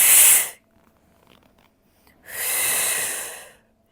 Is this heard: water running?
no